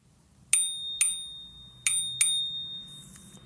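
A bicycle bell rings four times, crisp metallic dings with a lingering tone, two close pairs spaced across a quiet background.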